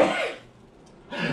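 A person sneezes indoors, with a sharp burst, a brief pause of near quiet, then a second explosive burst, close to the microphone.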